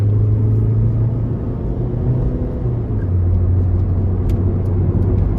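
A 2006 Nissan Sentra 1.8S Special Edition with about 110,000 miles accelerates onto an interstate, a steady loud engine drone and road rumble heard from inside the cabin throughout.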